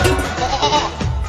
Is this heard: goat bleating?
yes